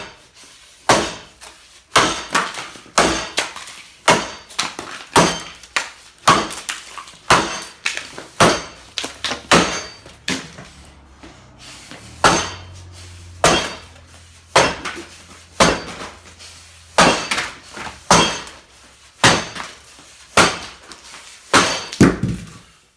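An axe chops into a large tulip poplar log during timber sports training, delivering about twenty loud, sharp strikes in a steady, evenly spaced rhythm with no talking.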